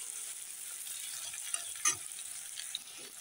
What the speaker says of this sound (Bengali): এখন আবার আরেকটু ভালো করে ভেজে নেব